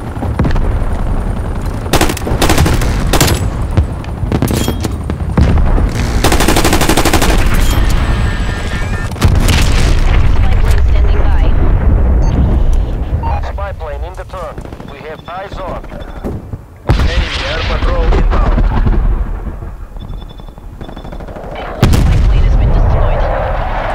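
Heavy gunfire in a Black Ops Cold War match, loud sustained bursts of automatic fire and booming shots packed close together, with brief lulls and a player talking over it.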